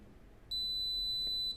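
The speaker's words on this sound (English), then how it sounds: "One long beep, everything is gone." After a moment of quiet, a keyless fingerprint smart lock gives a single long, high-pitched electronic beep for about a second as its fingerprints are erased, clear and close.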